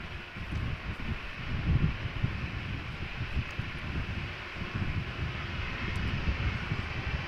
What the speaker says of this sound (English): Let's first look at the departure of KLM flight 1477 going to Glasgow, Boeing 737-800, 24-year-old airplane.